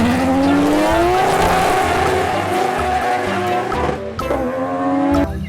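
A toy Lamborghini race car plays loud electronic engine revving that climbs in pitch, drops, and climbs again, mixed with screeching tire-squeal effects, continuous throughout.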